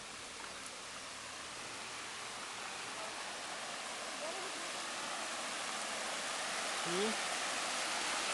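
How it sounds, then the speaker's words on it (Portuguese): Waterfall heard from a trail approaching it, a constant broadband rushing roar that fills the scene at a moderate level, with a person speaking briefly over it. "E aqui estamos chegando na cachoeira."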